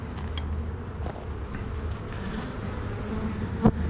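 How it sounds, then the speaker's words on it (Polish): Honeybees buzzing over a hive frame during an inspection, a dense, steady close drone with individual bees whining past and a brief knock near the end. "mnóstwo pszczoły."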